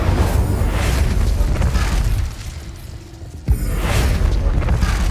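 Incendio fire spell cast in the video game Hogwarts Legacy, a loud roaring whoosh of flame that drops away briefly, then a sharp burst and renewed heavy rumbling blaze.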